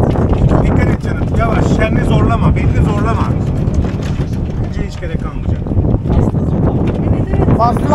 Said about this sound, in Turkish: Rüzgar arttı.